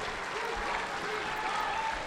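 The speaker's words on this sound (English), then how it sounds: "Well, they applaud at least." Steady crowd applause plays back from a video, a dense even patter of many hands at moderate level throughout, with no pauses and no clear speech over it.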